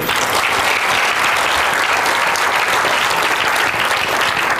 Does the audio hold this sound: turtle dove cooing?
no